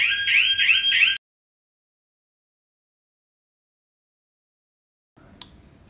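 An EG02/ET500 e-scooter GPS tracker's anti-theft alarm blares a loud, rapidly pulsing electronic siren for just over a second, then cuts off into silence before faint handling noise returns near the end.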